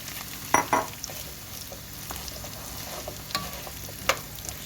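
Three zucchini stirred and frying in a pan for an Antakya chickpea-zucchini stew, a steady soft sizzle broken by a few scraping stir clacks near the start and again toward the end, with no talking.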